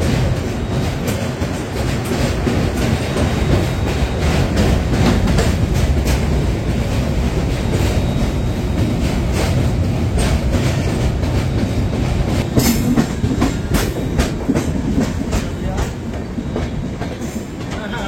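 The Himgiri Express from Howrah to Jammu runs at speed, a loud, continuous rumble from inside the coach with steady clickety-clack of wheels over rail joints and a faint voice underneath.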